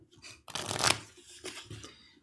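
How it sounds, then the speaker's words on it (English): A deck of cards being shuffled by hand during a tabletop card game, a close, crisp burst of riffling followed by a couple of softer flutters and taps. "Shuffle your deck."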